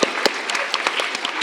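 Loud, dense applause from a crowd at an arangetram dance recital, steady clapping filling the whole short stretch with a few sharper claps standing out.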